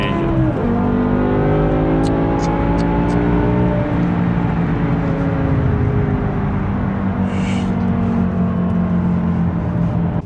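A BMW E60 M5 with its V10 engine accelerates hard under sustained load, a loud, continuous rising engine roar that climbs through the gears, close and steady, with a brief shift-like dip near the start.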